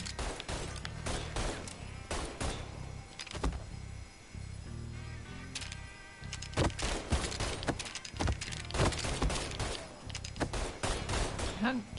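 Gunfire in the video game Mafia 3: a run of loud, sharp shots in irregular rapid bursts over a steady low in-game background, with a short lull partway through before the firing picks up again.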